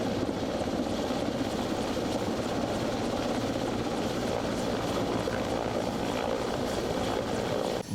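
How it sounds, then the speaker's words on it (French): A military helicopter sets down in a forest clearing, its rotor and engine roar loud, close and steady throughout, a dense continuous thrum with no voices over it. "Un hélicoptère vient de se poser au cœur d'une forêt à une cinquantaine de kilomètres de Bamako"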